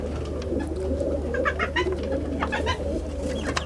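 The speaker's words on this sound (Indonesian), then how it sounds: "Ini ada puter blonde." Turtle doves cooing nearby, their soft repeated coos rising over a steady low background rumble, with no one speaking.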